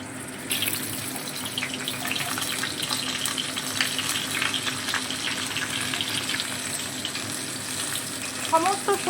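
Vegetables, including papaya, sizzle in hot oil while being stirred for a Bengali neem jhol, a steady crackling fry with scraping stirs throughout and no voices.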